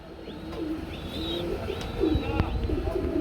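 Racing pigeons at a pigeon market give soft, low, rolling coos that repeat over a steady murmur of crowd noise, with a few brief higher calls mixed in.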